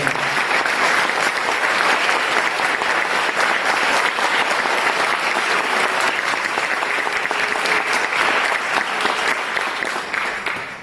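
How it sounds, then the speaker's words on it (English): Sustained audience applause for the seniors at a Taylor University jazz concert, a dense, steady wash of many hands clapping throughout, loud and even, tapering slightly at the very end. "Hey, give another round of applause."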